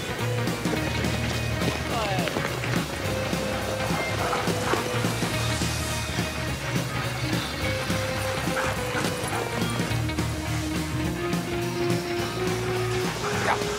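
Sled dogs bark and yip over a busy outdoor bed of noise in the Jura, with scattered barks throughout and a low hum underneath.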